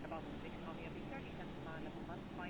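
ERJ135 jet engines in a flight simulator drone steadily from a cockpit view, a continuous broadband roar with a speaking voice over it.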